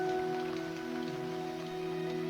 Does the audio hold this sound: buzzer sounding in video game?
no